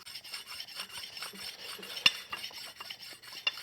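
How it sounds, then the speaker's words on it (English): A sharpening stone rubs along the top edge of a steel card scraper in quick, even back-and-forth rasping strokes, with one sharper click midway, close and steady with no talking. "you could take your sharpening stone to it, but you're just going to smooth out that top"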